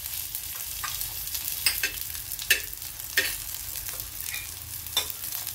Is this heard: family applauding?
no